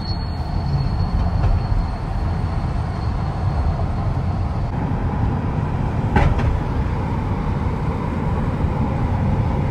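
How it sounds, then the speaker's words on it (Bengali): An airport air train at JFK rumbles past steadily, a continuous low roar with a brief brighter screech midway, fairly loud and close, no talking. "ওই যে এয়ার ট্রেন যাচ্ছে।"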